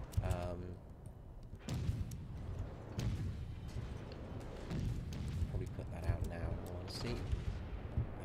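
Secondary battery gunfire striking a ship in the naval combat game World of Warships: a dense run of booms and thuds, with someone talking over the top.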